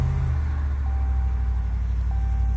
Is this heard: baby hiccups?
no